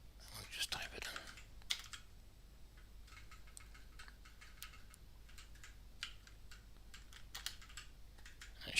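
Soft, steady clicking of a computer keyboard while Rust web-scraping code is typed, faint and close, coming in quick irregular runs with short pauses between them.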